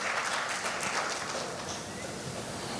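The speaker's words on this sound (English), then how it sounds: "A big round of applause to Mahesh Muralidhar Bhagwat ji." Audience at a fireside chat giving a guest a round of applause, a dense steady patter of many hands clapping, moderately loud and continuous, with faint voices mixed in.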